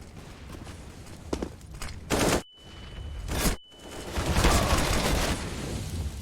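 Gunfire from an M4 rifle in Counter-Strike on the Train map at a pro league match: rapid bursts of automatic fire, with two sharp loud volleys separated by brief silence, followed by a longer, dense stretch of shots and movement.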